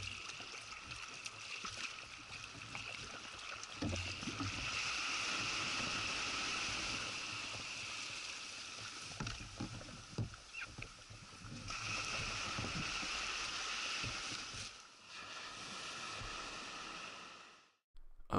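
A kayak moves along the east coast of Zayas Island in Dixon Entrance, with a steady wash of water and irregular paddle splashes and drips, close and fairly quiet, with no talk.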